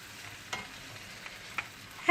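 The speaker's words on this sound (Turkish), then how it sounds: "Mercimeğimizi de koyduktan sonra güzelce harmanlıyorum." Cooked green lentils are stirred into a hot pan mixture, giving a steady close sizzle broken by a few soft scraping strokes, with no talking.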